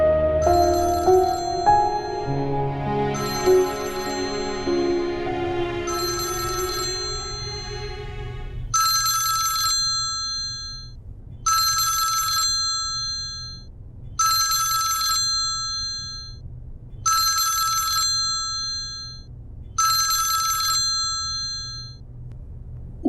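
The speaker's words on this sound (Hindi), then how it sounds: "फोन बज रहा है किसी का।" A phone rings with a melodic electronic ringtone, then switches to a repeated bright bell-like ring in regular bursts with short gaps. It stays clear and loud throughout, with no voices.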